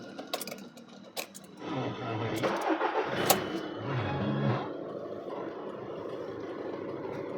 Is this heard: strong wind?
no